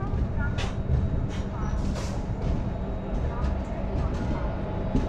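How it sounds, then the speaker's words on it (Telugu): Madgaon–Sawantwadi–Diva Express at Ratnagiri station, with a steady low rumble of the standing train and platform bustle, and people talking over it throughout. "ఇక్కడే ట్రైన్ ఉంది. మడగాం సావంతవాడి డివా ఎక్స్ప్రెస్ ఉందండి ఇక్కడ."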